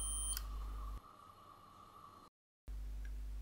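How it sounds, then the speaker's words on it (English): Electronic beeps from a microswitch tester checking a cleaned retro joystick, a steady tone that cuts off briefly and resumes, heard close and alone without talk. "you can hear from the beeps that it's working a lot better now"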